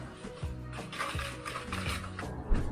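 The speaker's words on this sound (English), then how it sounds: "Add in the melted butter, give it a nice whisk." Whisk stirring melted butter into sugar in a bowl for cookie dough, a close, steady scraping and rattling that runs continuously for a few seconds with a louder knock at the end.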